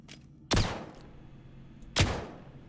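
Two loud, close gunshots from a firearm in Star Citizen, fired about a second and a half apart during a cave mission, each a sharp crack with a short decaying tail over quiet background hum.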